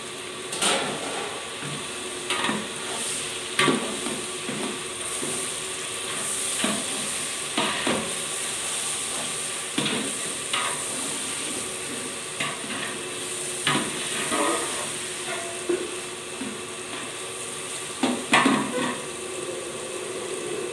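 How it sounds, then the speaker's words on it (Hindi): Onions and spices sizzle steadily in a pan of hot oil while biryani is being cooked, a constant hiss broken by frequent scraping stirs, close and unaccompanied by talk. "अब हम इसे फ्राई होने तक पकाएंगे।"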